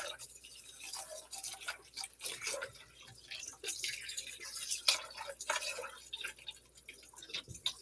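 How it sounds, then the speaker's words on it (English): Faint splashing and trickling filtered water, irregular and close, as sprouts are rinsed under a running stream. "And give them a good rinse."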